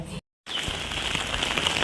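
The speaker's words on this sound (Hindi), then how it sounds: "इतनी तेज़ बारिश हो रही है" Heavy rain pours in a continuous dense hiss of drops on surfaces, with a brief cut to silence just after the start before the downpour resumes.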